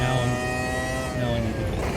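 Open-wheel engine note of a McLaren F1 MP4/12 in Automobilista 2 at Daytona, a steady loud high-revving drone held for two seconds with someone talking over it.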